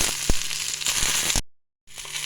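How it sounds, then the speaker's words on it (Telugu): Garlic cloves and cumin seeds fry in a pan with a loud, crackling sizzle and a few sharp pops, then a sudden cut to silence before the sizzling resumes more softly. "మనం తీసుకున్న వెల్లుల్లి రెబ్బలు, జీలకర్ర వేసుకున్నాము. ఫ్రై కానిద్దాము."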